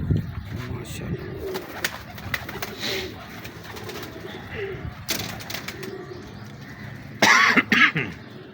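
A Teddy breeder pigeon coos in soft, low, repeated calls close by, mixed with throaty, cough-like sounds, while a person talks nearby.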